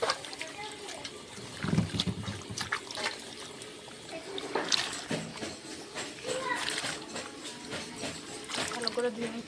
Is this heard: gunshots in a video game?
no